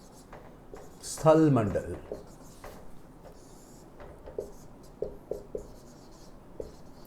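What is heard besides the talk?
writing on a board during a lecture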